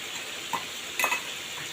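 Fried onion beresta drops into a pan of chicken roast, giving two short bursts of sizzle and a faint clink over a quiet steady hiss.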